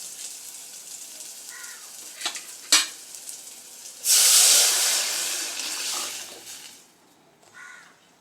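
Rasam hits a hot pan and bursts into a sharp, loud sizzle midway, after a few quiet clinks and stirring sounds. The hiss then fades gradually into a softer simmer, with a brief spoon scrape near the end.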